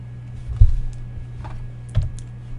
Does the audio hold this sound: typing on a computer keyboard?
yes